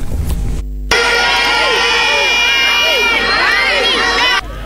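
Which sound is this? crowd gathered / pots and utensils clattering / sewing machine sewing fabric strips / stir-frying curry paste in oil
crowd gathered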